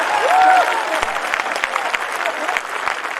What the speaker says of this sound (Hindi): जोरदार ताली बजाइए आप।